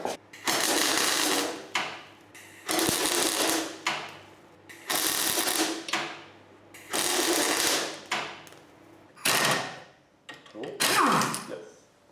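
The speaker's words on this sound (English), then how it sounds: "Hopefully get the impact gun on that and see how it goes." An impact gun hammers on a stuck bolt on a Toyota MR2 engine mount in a series of loud bursts of about a second each, separated by short pauses.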